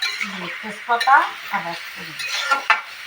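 Potato and papaya curry cooking in sunflower oil in a pan: a soft sizzle underlies intermittent scraping and clinking of a spoon stirring against the metal, close and moderately loud.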